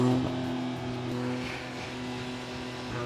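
A 2021 Hyundai i20 N Line hot hatch with twin mufflers idles nearby, a steady low engine and exhaust hum with even tonal drone throughout and no talking.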